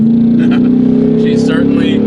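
A pickup truck fitted with a cheap loud exhaust revs hard close up, a deep droning V8-like rumble holding steady for about two seconds with a slight rise in pitch.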